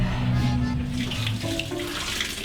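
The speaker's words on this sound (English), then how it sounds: "Can you check if hot water's coming out the sink, please?" Steady broadband rush of tap water running into a sink, continuous and fairly close, with no talking over it.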